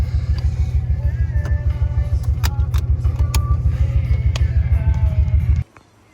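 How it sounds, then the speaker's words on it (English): A Nissan 300ZX fitted with S13 suspension parts does a burnout, its engine a loud, steady low droning rumble with a few faint higher clicks on top, then cutting off abruptly near the end. "it actually did a pretty good burnout"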